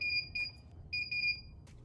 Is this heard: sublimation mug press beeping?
yes